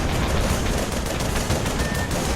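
Sustained, dense automatic fire from a first-generation mech's machine gun in the video game Project Nimbus, a continuous loud rattling burst that runs through the whole stretch without pause.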